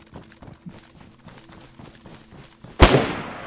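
A gunshot in the survival game DayZ, a single sharp loud crack near the end that decays with a short tail, preceded by soft irregular thumping footsteps and movement sounds.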